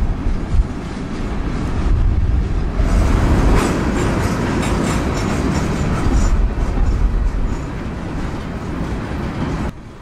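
A long freight train, nearly 10,000 feet and about half loaded cars and half empties, rumbles past close by, wheels clattering and groaning steadily over the rails for the whole stretch.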